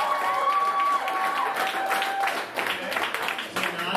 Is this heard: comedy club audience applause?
yes